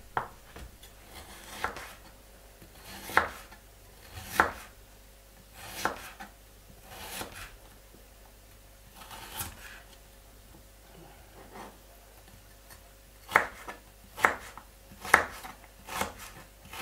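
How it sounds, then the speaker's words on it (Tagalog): A kitchen knife slices ginger on a cutting board, a series of sharp close taps in short irregular bursts with pauses between, no one speaking. "Iwa tayong ginger."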